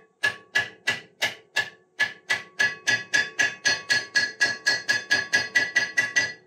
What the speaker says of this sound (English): lightly tap it all until it's fully seated